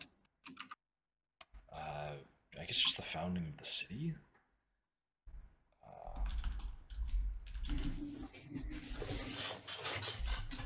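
A person speaks briefly, then keyboard typing clatters steadily with quieter background noise underneath.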